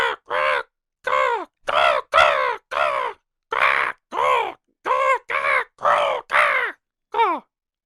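A person's voice imitates crow caws, giving about a dozen loud, harsh, separate calls in an uneven rhythm, close up with no other talk.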